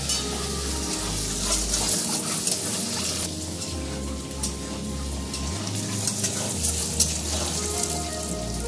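Boiled eggs fry in hot oil seasoned with salt and turmeric in a kadai, giving a loud continuous sizzle and crackle with a low hum beneath and no talk.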